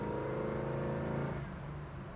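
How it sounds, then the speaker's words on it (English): Engine of a 1969 Chevrolet Nova revs under pressed throttle, a steady close, loud low drone that rises briefly then eases slightly toward the end, with no voices. "See, when I mash the throttle, the car responds."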